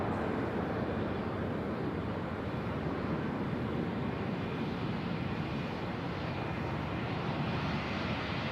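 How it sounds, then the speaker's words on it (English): A Turkish Airlines Airbus A321neo departs Manchester Airport for Istanbul, its engines a steady broadband roar that holds at an even level throughout, mixed with wind noise on the microphone. "There she goes. Heading back to Istanbul, the Turkish Airlines A321neo."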